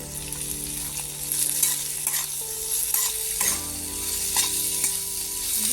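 Beans and mixed vegetables fry in hot oil, a continuous loud sizzle with scraping stirring strokes throughout and nobody speaking.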